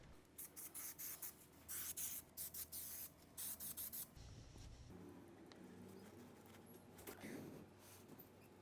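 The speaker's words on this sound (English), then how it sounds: "You're gonna wanna spray the foam gasket and then your adapter" Repeated short hisses from a spray can of adhesive onto a foam gasket and camper van air conditioner adapter, about eight quick bursts in a steady rhythm, followed by quieter rustling and handling noise.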